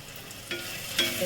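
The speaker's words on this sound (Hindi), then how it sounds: "सबको हम चला कर भून देंगे" Spice masala with cumin powder and Kashmiri red chilli powder roasting in a pan, a soft sizzle broken by two quick stirring scrapes.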